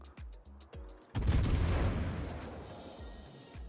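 Battleship guns in World of Warships firing armour-piercing shells: several short, deep thumps, then one big blast that rolls away slowly and is followed by more scattered thuds.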